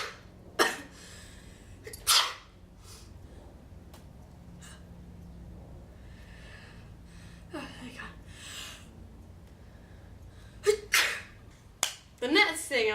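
Several sharp sneezes, triggered by bright sunlight, burst out one after another over quiet background hiss, with a short breathy gasp between them.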